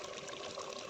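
Water being poured into a spicy dish during cooking, a brief, steady, fairly quiet splashing rush.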